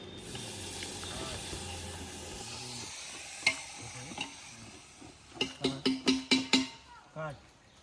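Food cooking over a wood-fired clay stove in a Konkan village during the Gavaldev festival: a steady sizzling hiss, then a quick run of rhythmic scraping stirring strokes near the end, with faint voices in the background.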